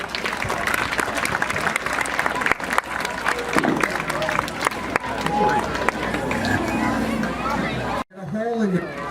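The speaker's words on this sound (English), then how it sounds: "Round of applause for Canine Riggs" Crowd at a Night Out event claps for police dog Riggs after a canine demonstration, sustained applause with chatter mixed in before it cuts off near the end, followed by a brief voice.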